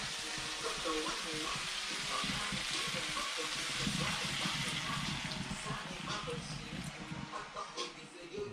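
Pork adobo simmering in a pan just after vinegar goes in, giving a steady, soft sizzle and bubbling hiss that keeps going under a person talking.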